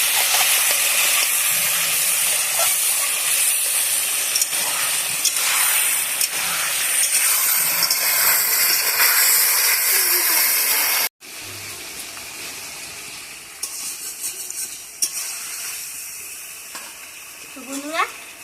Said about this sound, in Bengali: আলু আর ফুলকপিগুলো ভাজি করে, মানে পুরো ভাজি করব না